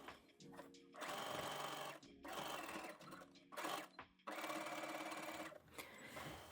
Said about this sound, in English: just like the other elastic, you flip it to the back and zigzag again